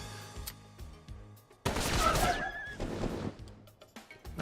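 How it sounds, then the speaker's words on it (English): Gunfire in the video game Metal Slug Tactics: a dense, loud burst of shots lasting about two seconds, with lighter game sounds and music before and after. "Now let's just shoot."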